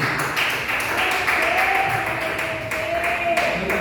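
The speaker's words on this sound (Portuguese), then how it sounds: "E palmas para Jesus." Congregation applauding in a church, a steady dense wash of clapping hands that holds for the whole stretch at moderate loudness with no voices over it.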